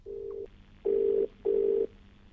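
Telephone ringback tone while a call is placed, three steady beeps with short gaps between them, clear and alone.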